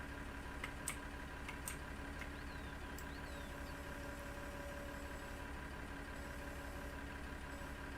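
A tractor engine idles steadily in Farming Simulator 19, a low constant hum with a faint ticking rhythm running under it and a few light clicks, no talking.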